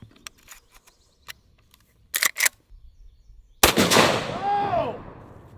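A single loud, close gunshot from a 45-70 lever-action rifle loaded with 405 grain soft point rounds, a sharp crack that rolls into a long fading echo, preceded by a few quiet mechanical clicks and handling sounds.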